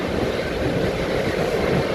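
Steady, loud rumble of the Siddheshwar Express running at speed past Kalwa near Mumbai, a continuous broadband roar of wheels and carriage with no pauses and no voices.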